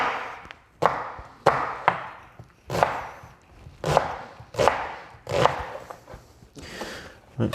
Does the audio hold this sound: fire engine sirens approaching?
no